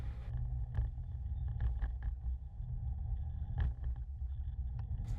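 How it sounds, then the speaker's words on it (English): Road traffic from the Bowen Bridge Road exit in Brisbane, heard from a bikeway beside it: a steady low rumble of passing cars with wind noise and a few brief sharper sounds, continuous and moderately loud throughout. "The traffic on my left is from the Bowen Bridge Road exit."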